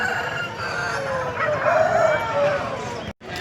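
At a Sunday hen market in Pileru, a white rooster for sale crows once in a drawn-out call over a steady murmur of crowd noise and chatter, ending with a brief dropout.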